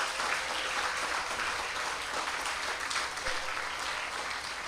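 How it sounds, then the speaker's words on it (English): Children and guests at a UNICEF World Children's Day ceremony in Barbados clap for their teachers, producing a steady, even round of applause that fills the whole moment without any speech. "Children, give your teachers a round of applause too."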